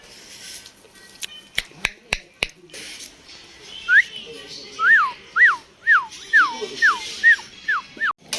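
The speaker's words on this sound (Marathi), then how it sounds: "हे बघा कुत्र्याची छोटी छोटी पिल्ल पण आपल्या इकडे आली आहेत" Small puppies near an outdoor cooking spot give a run of high, repeated whimpering yelps, about eight close squeals in steady rhythm after a few sharp clicks and snaps at the start.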